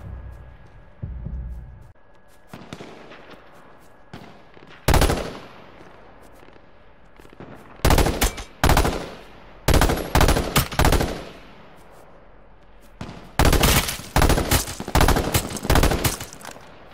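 Bursts of rapid video-game gunfire break out repeatedly in a free-for-all match, loud and sharp, separated by quieter stretches of low rumble.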